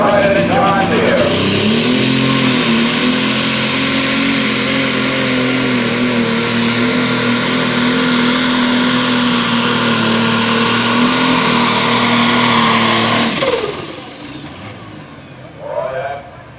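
Super stock pulling tractor roaring through a tractor pull run at Winchester, a loud sustained engine drone with a steady pitch that holds for several seconds then drops away as the run ends, followed by fainter engine noise.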